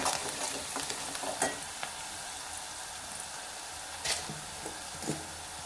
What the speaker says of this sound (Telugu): ఈ పసుపును కూడా మంచిగా కలుపుకోవాలి